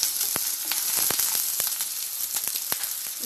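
Onions sizzling and frying in a pan for village-style mutton curry, a steady close crackling hiss with occasional sharper pops and stirring clicks, no talk.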